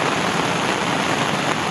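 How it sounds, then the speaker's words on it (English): Steady, dense hiss of rain falling on a campsite during a thunderstorm, constant and fairly loud with no voices. "Well, now it's raining. And thundering and lightning."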